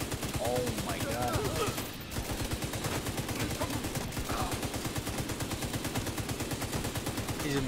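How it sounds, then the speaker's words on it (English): Rapid automatic gunfire in The Division 2, a long, evenly spaced stream of shots, steady and fairly loud, broken by one brief pause, with a player's voice chattering over it. "I'm trying to shoot his back"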